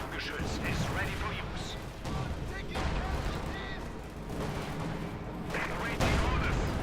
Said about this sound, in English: there goes Sturmgeschütz opening up there with 75mm gun